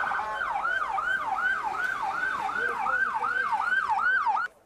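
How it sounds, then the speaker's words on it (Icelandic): Ambulance sirens in Deir al-Balah wail in a fast, regular rising-and-falling cycle, about ten sweeps, loud and continuous before cutting off abruptly at the end. "Það eina sem yfirgnæfir örvæntingu fólksins hávaðinn í sjúkrabílunum."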